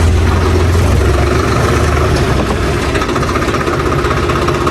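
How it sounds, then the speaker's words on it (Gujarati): A Blue Horse 63 tractor engine idles loudly and close, a steady low rumble and chug that holds without a break. "ટ્રેક્ટર તો બહાર કાઢવું જો હે"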